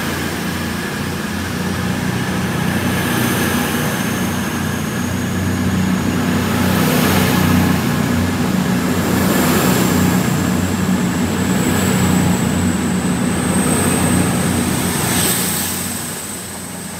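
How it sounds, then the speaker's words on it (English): A CrossCountry diesel train, a Class 221, pulls out of Oxford station with a steady, loud, close engine drone and rumble. A faint rising whine holds throughout, and the sound eases off slightly at the end. "now departing is the 1716 cross country service to Bournemouth."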